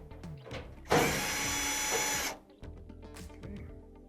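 A power driver spins a 5/16 screw out of a Whirlpool dryer heat shield in one loud, steady burst of about a second and a half, followed by quieter clicks and handling noises nearby.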